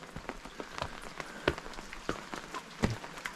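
Rain falls in a food forest, scattered drops striking leaves and surfaces nearby in irregular soft taps over a quiet wet hush, with no voices.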